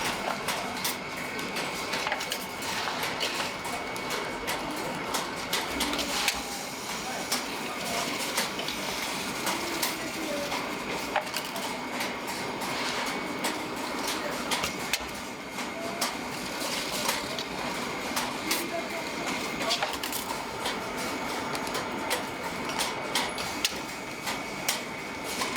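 A senbei-making machine ticks and clatters in a steady mechanical rhythm, with pneumatic tubes sucking up stacked rice-cracker pucks onto a conveyor belt, close and continuous with occasional sharper clicks.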